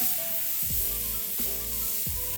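Skirt steak sizzling loudly in a hot pan just after flipping, a steady close frying hiss with brief bursts of spatter repeating about every second.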